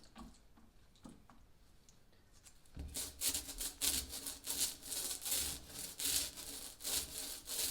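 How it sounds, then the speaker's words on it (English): Roller spreading epoxy over plywood boat sides, quiet at first and then a run of loud, rhythmic rolling strokes close by, each pass a rough, scratchy swish repeating quickly. "Now I'm going to roll the sides out. Just got to roll out all this wood."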